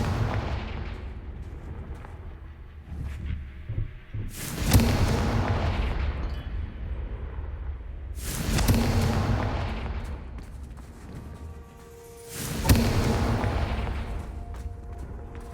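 Confringo explosive curse spells blasting in Hogwarts Legacy: three heavy booming bursts about four seconds apart, each a sharp crack trailing into a rumbling decay over a low background.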